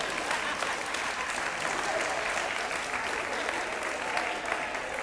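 Audience clapping after a speech, a dense, steady wash of applause from a crowd, even in level and continuing without a break.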